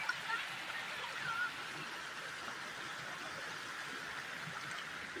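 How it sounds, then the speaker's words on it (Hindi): A river flowing in a hilly Pahadi village landscape, a steady faint rush of stream water heard alone, with a couple of brief soft sounds near the start. "ये देखो नदी।"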